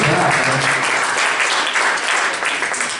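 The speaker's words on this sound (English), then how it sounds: "Clap it up" A comedy open-mic audience applauds a first-time performer: steady, loud clapping from many hands fills the room without a break, with only a trace of voices underneath.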